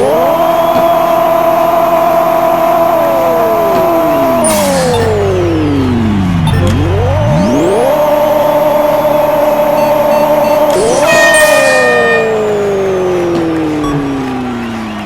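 A drag race car engine in a Honda racing video game revs hard and close, its pitch climbing and then dropping through gear shifts in long sweeps, loud throughout.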